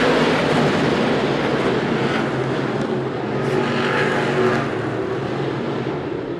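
Race cars roaring down the front straightaway at a dirt speedway during a Friday night race, a dense sustained engine drone close and loud that fades slightly as the pack passes.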